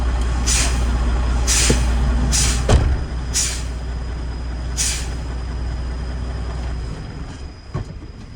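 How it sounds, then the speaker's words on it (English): Air tanks on a truck are pumped down and drained: a steady low hum runs beneath repeated sharp hissing bursts of released air, with a couple of louder pneumatic knocks. "I'm now going to drain the air tanks, but first I'm going to pump them down to 80 psi."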